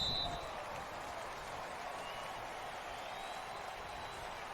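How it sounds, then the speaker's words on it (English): A home crowd applauds and roars in a Madden NFL football game featuring New England, a steady, dense wash of distant clapping and cheering that holds evenly throughout. "the home crowd applauding"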